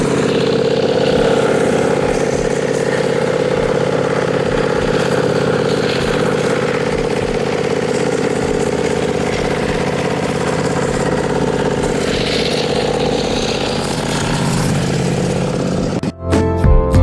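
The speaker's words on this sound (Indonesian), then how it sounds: "FCT25 ini memiliki mesin penggerak modern 25 HP, sangat tangguh, sangat kuat untuk mencacah gulma-gulma yang dilewatinya" An FCT25 stubble mower's modern 25 HP engine runs steadily and loudly at a constant drone, holding an even pitch throughout before a brief clattering disturbance at the very end.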